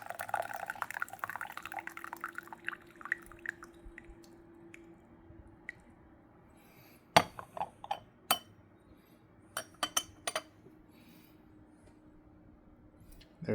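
Rinse wash of 2020 Yu Le raw pu-erh tea from Bana Tea poured off, with a soft liquid trickle and drip early on, followed by several sharp, close clinks of teaware, no talking.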